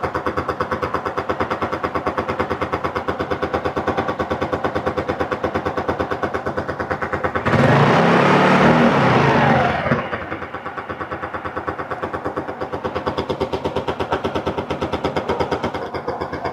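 A Yamaha Mio Sporty scooter with a diaphragm-type carburetor idles after a carburetor adjustment. Its close engine putters rapidly and steadily, briefly revs louder for about two seconds mid-clip, then drops back to a slightly lower idle.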